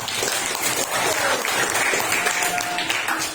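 Students at a senior high school clap together in a dense, steady round of applause that sounds fairly close and continues for a few seconds.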